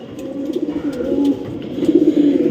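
A dove coos close by in soft, repeated low calls, with faint background noise and a few higher chirps.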